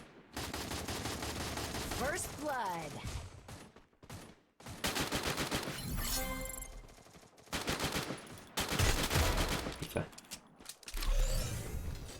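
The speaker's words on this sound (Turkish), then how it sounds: "Hala arkadan birisi sıkıyor bu arada" Bursts of rapid gunfire in the battle-royale game Free Fire, volleys of shots rattling from behind at close range with short pauses between them, a voice talking briefly over the shooting.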